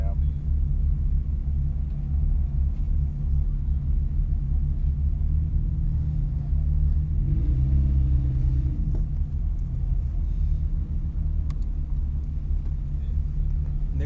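A Corvette fitted with an AMP exhaust drives on a race track, heard from inside as a steady, deep low rumble and drone, with muffled voices talking over it.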